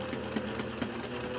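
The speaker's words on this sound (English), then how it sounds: "I'm going to be able to stitch in the ditch along this seam of these different pieces of the sarong" A sewing machine stitches in the ditch along a sarong seam, giving a steady mid-level whir with faint regular needle ticks and no voices.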